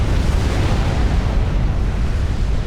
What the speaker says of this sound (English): The Paragon, of course, dies in the Paragon explosion.